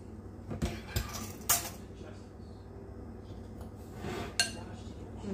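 Utensil clinking against a bowl while rhubarb cake batter is mixed, a few sharp metallic taps spread over a quiet background, close but faint.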